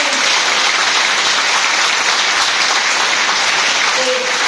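Crowd applause fills an election campaign opening rally in Porto Viro, a steady, loud wash of clapping sustained throughout with no break.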